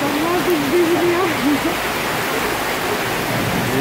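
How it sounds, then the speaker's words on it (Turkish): Heavy flood rain pours down with rushing water in Darıca, Turkey, a loud, dense, continuous hiss and roar, while a voice briefly shouts over it. "Bu arabaları götürür mü bu yağmur?"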